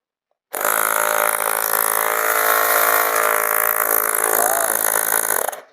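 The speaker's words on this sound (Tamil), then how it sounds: "வேற லெவலுக்கு இது மோட்டர் சவுண்டு" Motor of an Agaro portable air pump starting abruptly and running at a steady, loud, buzzing drone with a rough mechanical hum, close up and alone, then stopping.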